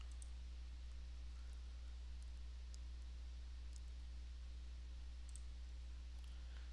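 A computer mouse clicks a few times, sparse and faint, while someone browses a financial data terminal. The clicks sit over a steady low hum and hiss, with no talking.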